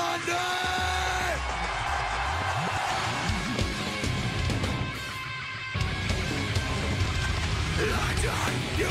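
A live metal concert crowd at a show in London in 2002 yells and roars in a loud, sustained mass, blended with the band's amplified music and a shouting voice throughout.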